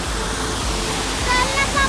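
Rushing water of a waterfall at Naneghat roars steadily nearby, a dense continuous wash of falling water with a voice faintly audible beneath it.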